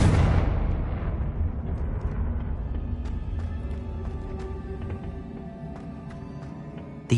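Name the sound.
Confringo blasting spell explosion in Harry Potter video game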